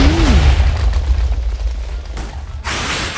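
A TNT explosion in the Minecraft video game: one loud, deep boom at the start that rumbles and fades, followed by lighter clicking game-mechanism noises and a second burst near the end.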